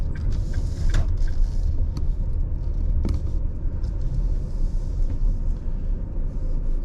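A car rolls slowly into a small corner parking lot beside a bakery, its low engine rumble and tire noise steady and close throughout, with a few faint clicks and knocks.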